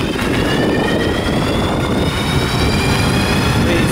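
A Bafang BBSHD mid-drive electric bike motor accelerates on throttle alone, a loud steady whine rising in pitch over constant wind and road rush, with no talking.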